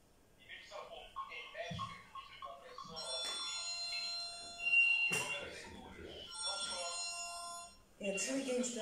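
A mobile phone rings in a literary festival audience, its repeated electronic ringtone sounding loud and clear amid voices, chatter and laughter from the crowd.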